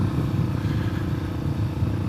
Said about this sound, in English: Now I've got to get a Vineyard wheelie in, even if it's a crappy one